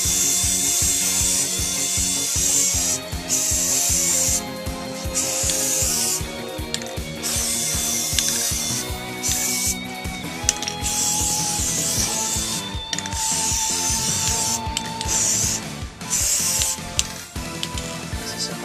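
Spray paint hisses in repeated short bursts onto a Dreamcast console casing, each blast loud and close, with music playing underneath.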